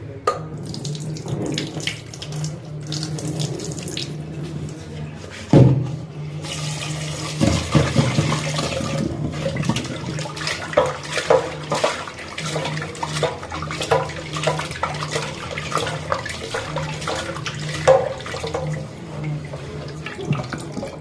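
Tap water runs into a sink while small puti fish are washed by hand, a steady splashing flow broken by sharp knocks and a sudden louder gush, with sloshing and stirring of water throughout and no talk.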